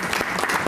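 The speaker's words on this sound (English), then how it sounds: "Can we get a round of applause for that?" An audience at a community board meeting gives a short burst of steady clapping.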